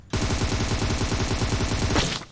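Sustained automatic gunfire in the mobile battle royale game PUBG Mobile, a fast, steady burst of loud rapid shots lasting about two seconds with no talk over it.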